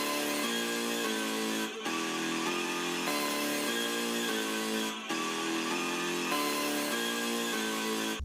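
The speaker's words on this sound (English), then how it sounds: "It's a synth called Zaps, and it sounds like this." A hard, buzzy synth note repeats in a steady looping pattern, each hit bright and sustained, with brief gaps between repetitions.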